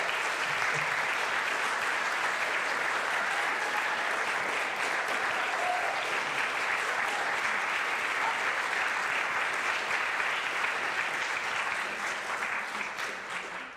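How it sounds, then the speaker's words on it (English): A full audience applauds a grandmother who has just turned 100, the dense, steady clapping holding at an even level throughout before tapering slightly at the very end. "So give her a round of applause"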